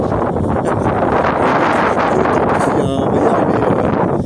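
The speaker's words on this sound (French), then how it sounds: "il y a un peu de vent" Steady wind roars and buffets the microphone, a constant low rumble with no letup.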